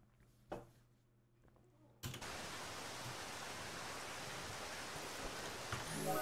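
Steady rain in the Zero Sievert video game, a dense continuous hiss that starts abruptly after a quiet stretch and holds loud and even to the end.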